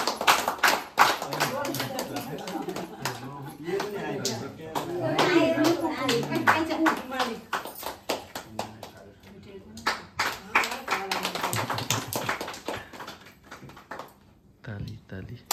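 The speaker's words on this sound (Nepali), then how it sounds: "ताली ताली" A group of people claps hands in uneven bursts of sharp, close slaps, mixed with chatter and voices talking over the clapping for much of the stretch.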